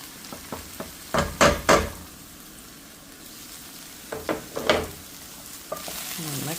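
Spices sizzling in a hot pan over a medium burner as they are stirred into a split pea curry with cracked wheat, with bursts of frying crackle and scraping strokes between quieter moments, close and fairly loud.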